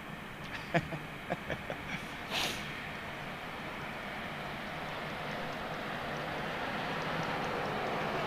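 A steady low roar of an aircraft passing overhead unseen in fog near London Heathrow Airport, building slowly and continuing, after a few soft clicks at the start.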